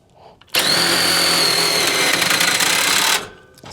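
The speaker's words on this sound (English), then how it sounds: "I've got my DeWalt here that will make quick work of these things" A DeWalt power drill cranks up the stabilizer jacks on an RV: a loud, close, steady high-pitched whir lasting about two and a half seconds, starting and stopping abruptly.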